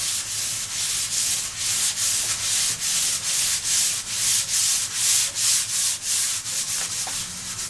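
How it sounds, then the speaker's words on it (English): Sandpaper is rubbed by hand along the grain of an old varnished wooden coffee table, making a steady, rhythmic back-and-forth scratch of about twenty even strokes, close and loud with no talking. "I'm going to just give it a quick shine with the sandpaper"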